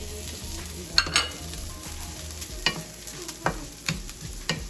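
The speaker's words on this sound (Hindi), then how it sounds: "गोंद डाल के थोड़ा सा फ्राई कर लेंगे" Edible gum (gond) frying in a pan for flaxseed pinni laddu gives a constant low sizzle, broken by about seven sharp spatula scrapes and knocks as it is stirred close by.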